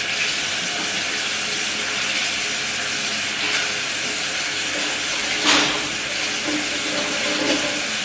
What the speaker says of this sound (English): So let me just wash my hands a bit.